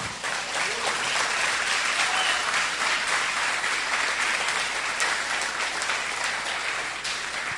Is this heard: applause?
yes